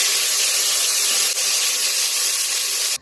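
Whole spices for biryani sizzle in a little hot oil: poppy seeds, a clove, a bay leaf and a dried rose. A loud, steady frying hiss runs with no voices and stops abruptly at the end.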